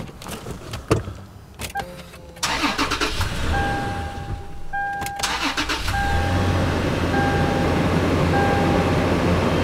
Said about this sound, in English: you can see the engine fired right up, no issues